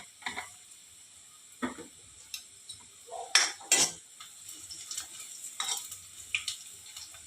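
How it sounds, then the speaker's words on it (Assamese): Nigella seeds sizzling in hot oil with half-fried onions, with a soft continuous frying hiss under a few sharp clinks and scrapes of a stirring utensil against the pan. "মই কালজিৰাকেইটা দি দিছোঁ।"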